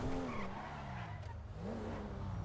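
A rear-wheel-drive car drifts on drift tyres in GTA 5, its tyres squealing in long wavering skids over a droning engine, loud and continuous.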